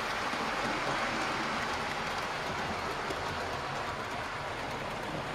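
A model railway S15 locomotive runs with a parcels train on a loft layout, making a continuous rushing rumble with a faint rhythmic rattle of wheels on track at an even, steady level.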